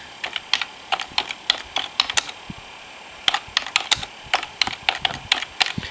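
Fingers type on a computer keyboard to look up items found at a swap meet, a close run of crisp key clicks in quick bursts with a short pause in the middle.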